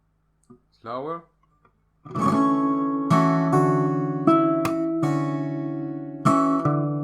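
After a short spoken word, a fingerstyle acoustic guitar plays bars 59 and 60 of an arrangement of a song from Naruto Shippuden at a slower tempo, clear ringing chords and single notes struck one after another.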